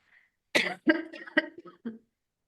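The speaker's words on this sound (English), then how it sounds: "I'm just going to cough, hang on a sec." A single person coughs several times in quick succession, close and fairly loud, in an otherwise quiet room.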